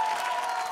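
An audience at a dance competition grand finale claps in a steady, dense wash of applause, loud and continuous, with a faint crowd murmur beneath.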